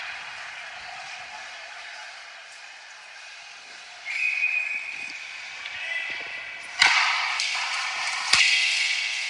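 A referee's whistle sounds sharply a few times over the hollow hum of a crowd at a youth ice hockey game, with faint thuds and scrapes in between.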